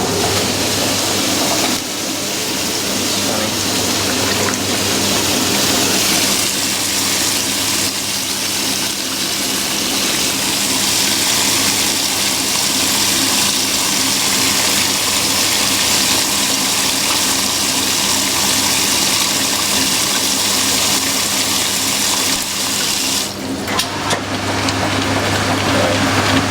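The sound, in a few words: washing machine water splashing during wash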